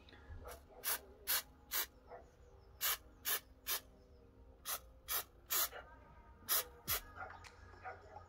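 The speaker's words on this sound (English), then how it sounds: "just try and attach this to the frame with some spray adhesive. So what I'll do is spray around the corner" Spray adhesive hisses out of a can in about fourteen short, sharp bursts, some in quick pairs, while it is applied around the corner of a frame for a Volvo P1 (C30, S40, V50, C70) gear knob cover. The bursts are close and quiet over a low room hum.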